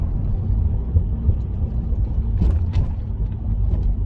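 Steady low engine rumble of a car interior on the move, continuous and even, with a few faint clicks and knocks over the drone.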